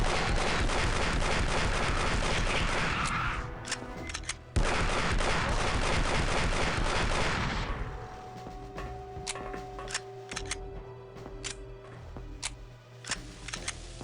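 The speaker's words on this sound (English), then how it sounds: "I was kind of hoping the explosions would kill it, because I thought the prox mine detonated faster." Heavy sustained gunfire roars continuously in Alien vs Predator 2: Primal Hunt, briefly cutting out and resuming before giving way to a tonal hum with scattered sharp clicks and pops near the end.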